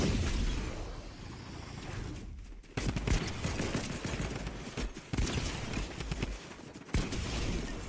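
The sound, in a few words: gunfire in a video game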